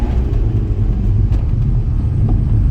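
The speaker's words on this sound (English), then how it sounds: "how good is a 4-pot diesel gonna sound?" Straight-piped, high-mileage BMW 123d four-cylinder diesel heard from inside while driving, a loud, steady, gravelly exhaust rumble with no talk.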